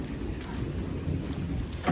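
Heavy rain from a night storm in Luang Prabang, Laos, pours down in a dense, steady hiss with drops striking nearby surfaces, and no voices are heard.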